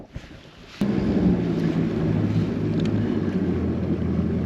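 A fishing boat motors across a lake in wind, its engine a steady loud drone after a sudden start, with wind buffeting the microphone throughout.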